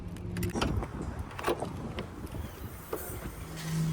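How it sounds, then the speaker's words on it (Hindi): A car parked outside a grocery store is unlocked and opened for loading, with a soft jangle of keys, clicks and a door thump, all faint and close by, and little talk. "तो सबसे पहले इसके लिए गाड़ी खोल लेते हैं"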